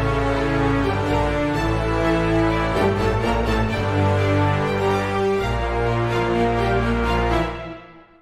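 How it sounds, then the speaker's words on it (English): A dense orchestral layer of French horns and trombones built for a metal track, holding sustained low brass chords at full volume, then fading out over the last second. "when we listen to all the instruments in our orchestra"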